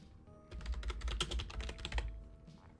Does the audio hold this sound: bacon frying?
no